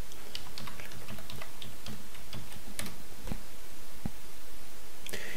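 Sparse, crisp clicks of a password being typed on a computer keyboard while logging into a school email account, close up with uneven pauses between keystrokes and no talking.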